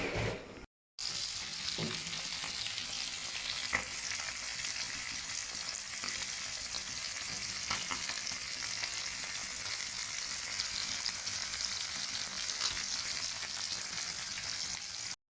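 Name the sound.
fish frying in a pan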